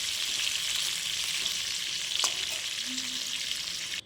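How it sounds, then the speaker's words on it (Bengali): Food frying in oil, a steady close sizzle with a brief stir or clink partway through, then stopping suddenly. "এটাকে কিন্তু আমি ভেজে নিচ্ছি"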